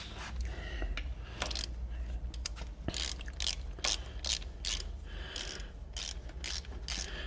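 A ratchet wrench is tightening down a Cummins N14 oil pump on a cabover truck project, giving rapid close-up clicking strokes over a constant low workshop hum. There is no speech.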